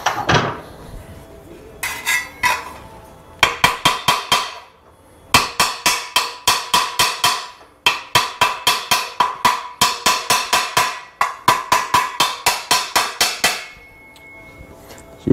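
Repeated metal hammer strikes chasing the edge of a chopped 1936 Ford steel roof panel over a homemade pipe anvil, coming in quick rhythmic bursts of sharp ringing blows with short pauses between, loud and close with no talk.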